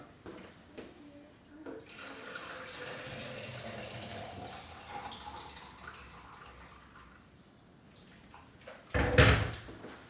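Running tap water pours steadily into a kettle, its pitch rising gradually as it fills, followed by a brief clunk near the end.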